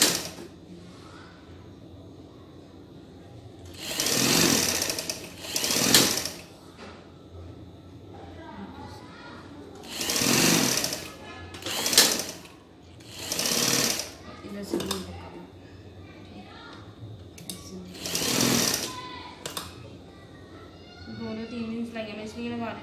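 A sewing machine stitches fabric for a garment in repeated runs of buzzing, some long and some short, with pauses between, under someone talking.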